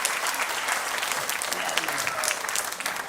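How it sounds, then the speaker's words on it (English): An audience at a church family service claps in a dense, sustained round of applause that stays fairly even for a few seconds. "Give them a round of applause."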